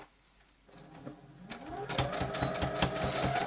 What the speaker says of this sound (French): Donc, je couds.